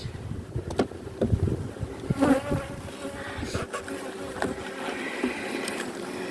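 Bees and a wasp buzzing around an open hive frame, a close, steady droning hum with individual insects darting loudly past the microphone, no talking.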